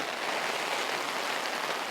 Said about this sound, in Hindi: ये बारिश भी बड़ी अजीब है।